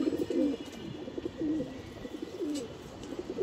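Soft, low cooing of a black-necked racing pigeon repeats in short rolling phrases, close by, over a faint background hum.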